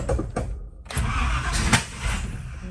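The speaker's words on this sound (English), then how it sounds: "Wow, that was a loud backfire." A Chevy C20 truck cranks and fires up with a sharp, loud backfire bang near the start, then settles into a rough running engine rumble, close by with no talk.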